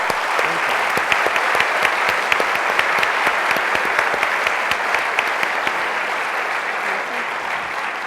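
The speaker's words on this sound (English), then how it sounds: "Let's please give them a round of applause." An audience applauds panelists at the close of a discussion, a full, even round of many hands clapping with a few sharper claps poking through, sustained for about eight seconds.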